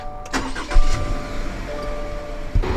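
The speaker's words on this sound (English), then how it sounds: "we'll do push to start, put my foot on the brake and press the button" A Subaru car is started with a push button, giving a short crank that catches into a steady, close idle.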